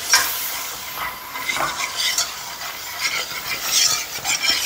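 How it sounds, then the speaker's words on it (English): Flour being whisked into melted, foaming butter in a pot over medium-low heat, a steady scraping, stirring rustle with a soft sizzle running continuously throughout. "And I whisk this over a medium-low heat for a good couple of minutes, whisking continuously"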